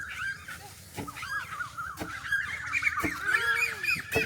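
Birds call repeatedly in an early-morning village yard with a flowering bakul tree, their warbling, honk-like cries fairly close, while a dull wooden thud lands about once a second beneath them.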